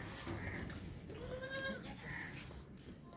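A Beetal goat buck on a farm in Pakistan bleats once in a drawn, wavering call, fairly close, with faint farmyard background around it.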